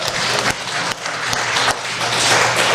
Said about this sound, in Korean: 하나님께 영광의 박수 돌리면서 우리 말씀하시겠습니다.